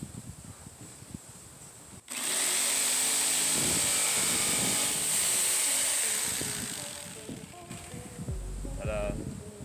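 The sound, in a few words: jigsaw cutting out a wooden Hellcat sign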